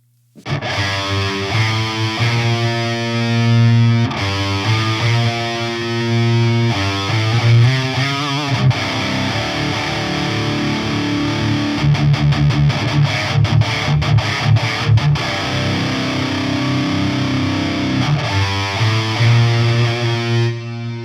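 An electric guitar plays distorted chords and riffs through a Quad Cortex doubler effect, thickening the sound, loud and continuous, with a rapid choppy passage midway.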